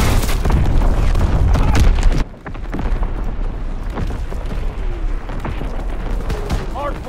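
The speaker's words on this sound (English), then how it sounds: "Incoming enemy artillery!" Enemy artillery shells exploding in a military shooter game's hardpoint match: a loud sustained roaring barrage of booms and gunfire that cuts off abruptly, followed by continuing distant rumbling blasts and scattered shots.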